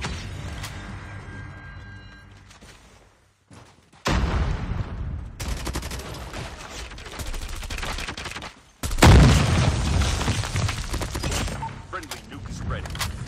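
Video game combat with heavy rapid gunfire and a big explosion from a nuke, loud bursts of shots and booming blasts in dense continuous waves, with a brief lull partway through.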